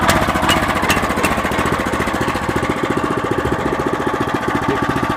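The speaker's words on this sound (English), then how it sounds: "give it a pull, start it up" A Eurosystem RTT3 tiller's small engine runs loud and close, a steady pulsing chug that holds throughout without pause.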